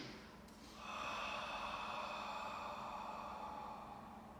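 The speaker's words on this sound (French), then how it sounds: "on expire profond par la bouche" A deep, steady exhale through the mouth during an abdominal breathing exercise, a soft breathy rush of air that starts after a brief pause and lasts several seconds, close and quiet.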